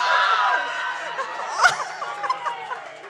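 A studio audience cheers and laughs during a marine biology quiz, a burst of mixed voices that is loudest at the start, then dies away into scattered chuckles.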